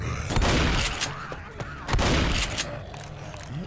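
Shotgun blasts in the zombie game Left 4 Dead, several loud, sharp reports spaced irregularly amid other gunfire and game noise.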